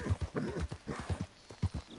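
Hooves of a horse clip-clop in a steady trotting rhythm in a video game, close and clear, with a brief whinny-like tone in the mix and no talk over it.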